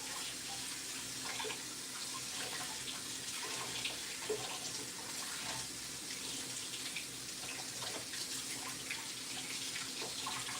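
Food is rinsed under a kitchen tap, with water running steadily into a sink for the whole stretch, a continuous close splashing hiss with small changes as the food is moved.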